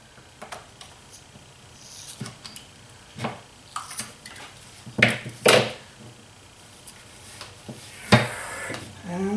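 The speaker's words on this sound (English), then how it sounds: "Utility knife." A utility knife is handled during a CPU water block replacement: scattered light clicks, taps and metallic clinks come close up with short pauses between them, and a sharper knock lands near the end. No one speaks.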